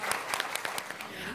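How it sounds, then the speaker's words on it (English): An audience applauds to welcome clients onto a panel stage, a short burst of scattered clapping blended with a voice speaking over it. "Give them a big round of applause."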